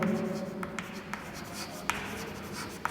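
A pen scratches across paper while an equivalent circuit diagram is drawn, close and soft strokes with small taps, with a low voice murmuring underneath.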